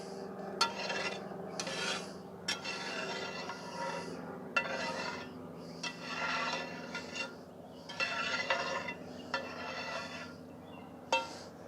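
Metal scraping crust off the bottom of a seasoned cast iron skillet at a camp cookout, a series of short rasping strokes with occasional sharp clinks, close and fairly quiet.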